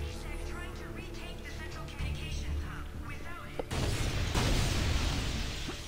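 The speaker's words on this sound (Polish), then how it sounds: "O, coś wybuchło, czyli walka się jeszcze nie skończyła." An explosion in the video game Mass Effect 3 bursts out midway as a sudden broad roaring blast, following a stretch of game sounds and chatter, with rumbling debris continuing to the end.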